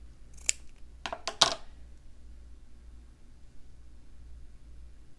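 Scissors clip fabric trim with three or four quick, crisp snips close by, followed by quiet room hum and no talking.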